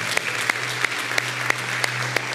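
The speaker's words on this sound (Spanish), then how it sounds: "Que sea un aplauso para el Señor," A congregation applauds during a church sermon with steady, dense clapping and a few sharper claps standing out, accompanied by a low steady hum.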